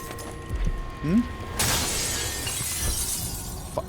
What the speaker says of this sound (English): I really wish I didn't have to keep smashing things to get in them